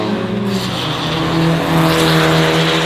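A Mazda MX-5 with a naturally aspirated engine laps a race track, its loud, revving engine holding a sustained harmonic whine that climbs in pitch, with some tire noise, close to the car throughout.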